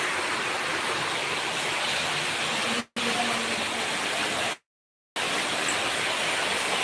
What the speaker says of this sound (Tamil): பயங்கரமாக இருக்கு மழை.